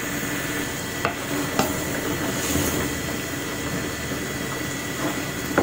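Chicken and tomatoes simmering in a pan, a continuous loud bubbling sizzle with occasional scrapes and knocks of a spoon stirring through the broth.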